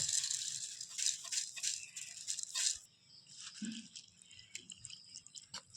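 Thick-grain flattened rice (chira) washed in water, with close wet rattling and sloshing as the grains are stirred by hand, then quieter drips and splashes, faint and without talking.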